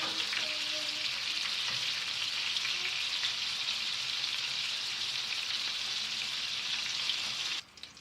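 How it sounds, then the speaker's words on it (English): Salmon frying in butter and lime juice in a pan, a dense, even sizzle holding steady and close for about seven seconds before cutting off abruptly. "Keep doing this so that the fish gets cooked well with the butter and lime juice."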